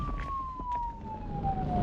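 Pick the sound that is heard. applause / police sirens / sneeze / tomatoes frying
police sirens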